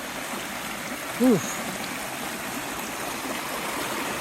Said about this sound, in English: if there was a river on the downside of the lake, there has to be one on the upside.